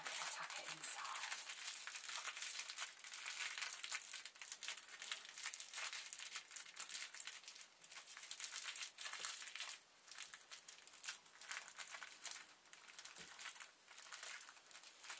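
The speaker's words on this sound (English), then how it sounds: "Trim off my excess polythene. So it's crinkly enough. And then we're going to tuck it inside." Scrap of crinkly polythene being crumpled and stuffed inside a homemade bean bag of cloth and rice, with close, continuous crackling and rustling in bursts and brief pauses.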